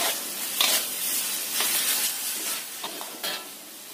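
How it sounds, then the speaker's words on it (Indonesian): A spice paste for an Indonesian dish sautéing in a pan, a steady soft sizzle with occasional scraping stirs and small crackles, close and alone with no talk. "Kita tumis sampai matang."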